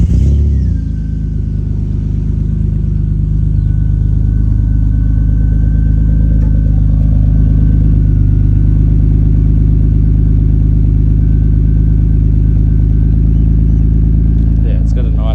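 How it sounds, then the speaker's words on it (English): A 20-year-old Australian-market Mitsubishi car engine cranks and fires, then settles into a steady, loud, deep idle rumble that holds with little change throughout. "We'll just start the car up here, and you can have a listen again."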